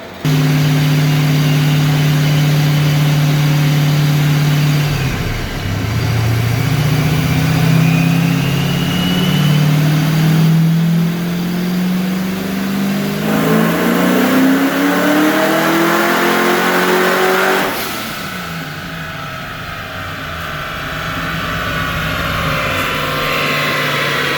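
Fox body Mustang engine on a dyno pull, very loud and close, climbing steadily in pitch as it revs up through the gears for about eighteen seconds, then dropping off to a lower roar as the pull ends.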